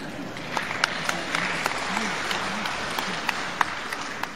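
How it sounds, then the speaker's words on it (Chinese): An audience at a singing masterclass lecture claps steadily throughout, a dense sustained patter with a few sharper individual claps standing out, and faint voices underneath. "这也鼓掌啊！"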